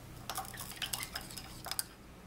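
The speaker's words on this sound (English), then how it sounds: "you're just going to stir until all the solid sodium hydroxide has completely dissolved" Sodium hydroxide is stirred into water in lab glassware, a quiet close sequence of light glassy clinks and scrapes at an uneven rhythm, with no voices.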